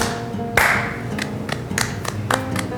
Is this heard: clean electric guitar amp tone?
no